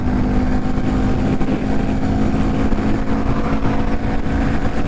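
A Honda Grom motorcycle carrying a passenger drones at steady speed, its small engine humming loudly and continuously under rushing wind and road noise.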